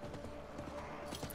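Faint, steady clip-clop of horse hooves as a horse is ridden through a town in the Diablo IV video game, a quiet regular rhythm under a low background.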